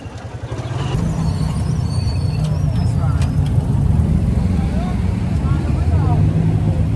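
A motorized tricycle rides through traffic. A steady, loud engine drone carries on throughout, with faint passing tones from other vehicles over it.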